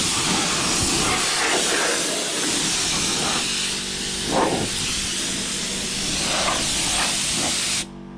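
Compressed air blowing out a fibreglass bumper for a 1992 Nissan 300ZX Twin Turbo before painting: a continuous loud, broad hiss with a few brief stronger puffs, close by, with no talking.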